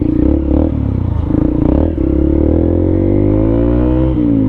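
A Honda XR 150 motorcycle engine roars close by as the bike pulls away, its pitch climbing steadily through a loud, rising rev with no talk.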